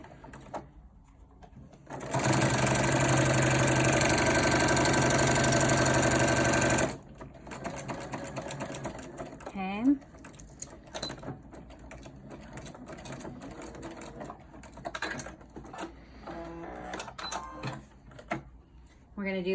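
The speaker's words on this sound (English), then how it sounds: "And now we're going to sew at 1/4 of an inch." Sewing machine stitching elastic onto a cloth face mask at a quarter-inch seam, a loud continuous whirring run of about five seconds followed by softer intermittent stitching and handling sounds, with a person talking over the later part.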